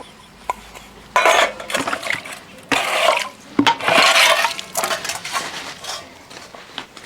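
Dishes, pots and metal utensils are being washed with water in a home kitchen: bursts of clattering, scraping and splashing come and go close by, with short quieter gaps between them, and no talking.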